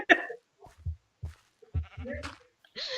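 Sheep in the video game Minecraft bleat in several short, close bursts, interleaved with a player talking.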